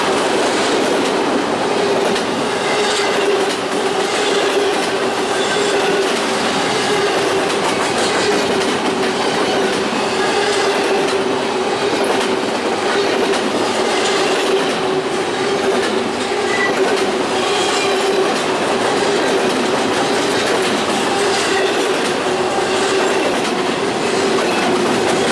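An eastbound intermodal freight train rolls past on a main line, a loud, steady roar of railcars with rhythmic clickety-clack of wheels over rail joints, close by and sustained throughout, with faint birds and no talking.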